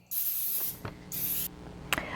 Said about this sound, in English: spray them with the olive oil